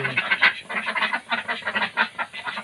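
Several ducks of white, black and mixed colours quack together on a duck farm in Chirang, Bodoland, Assam, giving a busy, overlapping run of nasal calls at moderate distance.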